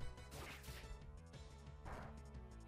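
X-Scissor attack in Pokémon Black, a quick pair of slashing, crashing hits amid game music, the strikes clear and fairly loud against the background score.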